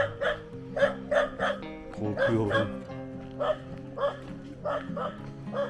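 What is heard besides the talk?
dog barking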